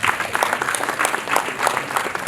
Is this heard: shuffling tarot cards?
no